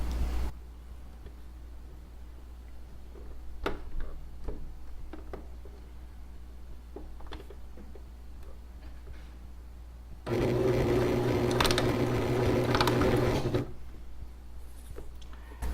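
A sewing machine stitches a straight line in a short burst of about three seconds, a steady close whirring hum, with quiet handling clicks before and after.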